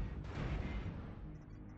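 Sustained heavy weapon fire and explosions from battling mechs in MechWarrior Online, a dense continuous roar of blasts that stays loud throughout and fades slightly near the end.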